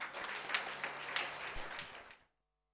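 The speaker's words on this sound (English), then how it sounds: "Let's welcome them with a huge round of applause." Audience applause at a Love India Serve India event welcoming student performers, a fairly quiet, dense patter of many hands that runs for about two seconds, then cuts off abruptly into silence.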